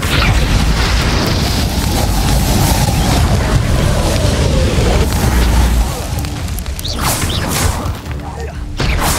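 A Confringo blasting spell explodes in the Hogwarts Legacy video game with a heavy, roaring boom and rumbling blast. It fades partway through into scattered whooshes and mechanical game effects, with faint voices mixed in.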